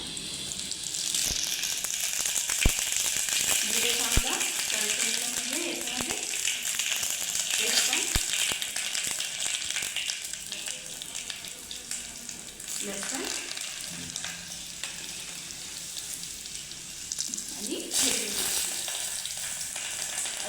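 Cumin seeds sizzle steadily in hot oil as the tempering for spicy toor dal begins, a dense continuous frying crackle that stays loud throughout, with occasional stirring clinks and a voice speaking softly in places.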